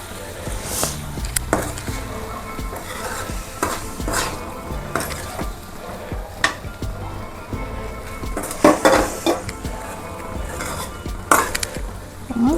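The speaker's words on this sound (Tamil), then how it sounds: "இதில் கொஞ்சம் கொஞ்சமாக சாப்பாடு சேர்த்து கிளறிக்கலாம்" Cooked rice being stirred a little at a time into brinjal biryani in a pan, giving repeated scraping clinks of a spoon against metal over a soft background sizzle, close and fairly steady with sharper knocks now and then.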